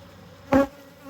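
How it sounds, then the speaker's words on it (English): A bee gives a short, loud buzz as it passes close by at a beehive, with a hum continuing faintly in the background. "there's a lot of bees now in both of these hives"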